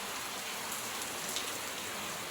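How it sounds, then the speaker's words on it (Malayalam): Heavy rain pours steadily outside, with water running along the road, a dense continuous hiss of drops on surfaces, even and unbroken, fairly quiet at a distance, with no talking. "പുറത്തുനിന്ന് നല്ല മഴയാണ്."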